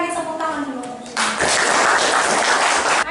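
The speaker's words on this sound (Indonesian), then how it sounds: "sekali lagi tepuk tangan dulu" A class of participants applauds in a classroom, a burst of clapping starting about a second in and holding steady to the end, with voices talking just before it begins.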